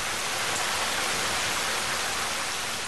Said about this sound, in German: Noch in der Nacht kommt der Regen und bleibt den ganzen nächsten Tag.